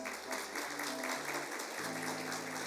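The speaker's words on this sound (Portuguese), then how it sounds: "Eu queria que vocês dessem a eles uma salva de palmas." A congregation at a Christian family church service gives a round of applause, a steady wash of clapping from the crowd heard under a sustained low musical hum.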